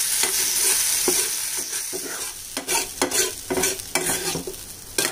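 Pav bhaji vegetables sizzle loudly in a pan on full flame while a spoon stirs and scrapes them in quick, uneven strokes, close up with no talking.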